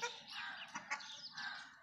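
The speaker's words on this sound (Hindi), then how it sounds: "मुर्गी रोटी खा रही ने" A hen clucks while eating bread: several soft, short clucks and chirps, quiet and close, in an otherwise hushed setting.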